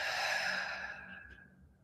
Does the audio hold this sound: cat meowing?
no